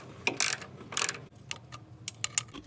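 Wrenches and metal parts click and clank sporadically while the mechanical fuel pump is removed from a 1970 Nova engine, close-up, with short ratcheting bursts and light taps in a quiet garage.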